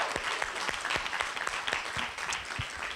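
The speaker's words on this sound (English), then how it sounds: "She needs another round of applause." Audience at a public school forum giving a round of applause, steady dense clapping from a roomful of people, close and moderately loud throughout.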